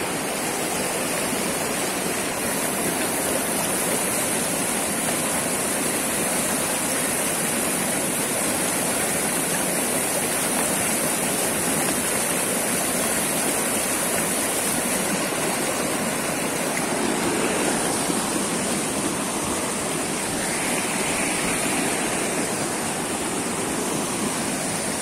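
A swollen river at Bagarkot, Dharan, rushes with a loud, constant roar of churning water that fills the scene evenly from start to finish.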